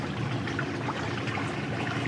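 Ocean water washes and trickles nearby in a continuous, moderately loud, even rush with no voices over it.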